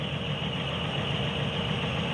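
A 2004 Ford Explorer engine idles after an oil change, a steady low hum and light mechanical whir, continuous and moderately quiet at close range.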